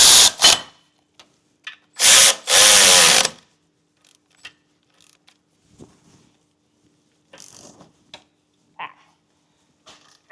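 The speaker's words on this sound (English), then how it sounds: "I'm going to use an electric ratchet just to speed up putting this back in" An electric ratchet runs a front brake caliper bolt back in on a 200 Series Land Cruiser / LX570 during a pad and rotor job. It gives a few loud, close whirring bursts, the longest near the middle, between quiet clicks and handling noises.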